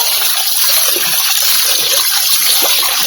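Fish being washed in a vessel of water for a Nellore-style fish curry, giving steady close splashing and sloshing with trickles throughout, with no talk.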